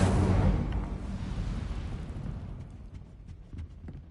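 The Incendio fire spell in Hogwarts Legacy bursts loud and full at once, then roars and crackles as it slowly fades, with faint small pops and clicks near the end.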